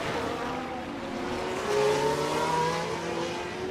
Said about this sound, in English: his engine now sounds like it's in rough shape.